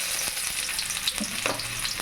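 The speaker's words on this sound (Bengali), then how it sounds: "তেল গরম হয়ে গেছে, কাটা পেঁয়াজ" Chopped onions frying in hot mustard oil in a wok, a steady bright sizzle with occasional stirring scrapes and pops, close and loud.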